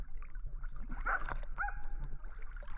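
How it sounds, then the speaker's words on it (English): A few faint, distant dog barks and a short whine over low background rumble at a still lake swimming spot in Nacka, Sweday, in the evening, no one speaking. "We have a barking dog in the background as well"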